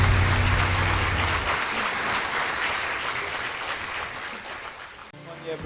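An audience at a Nigerian university conference event claps in a steady round of applause to welcome a speaker to the stage, dense clapping throughout and cutting off abruptly near the end, with brief voices underneath.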